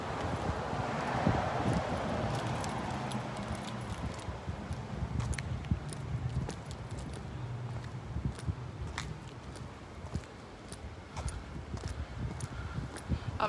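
Wind gusting at Redondo Beach pier on a cold morning, a broad rushing buffet close to the microphone with scattered clicks and thumps, no talk.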